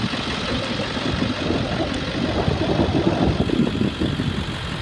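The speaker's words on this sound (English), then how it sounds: "The motor sounds good. It's been running over an hour." A 2000 Ford F-450 XL crew cab utility truck with a 7.3L engine idles steadily, a continuous low rumble held at an even level throughout with no voices.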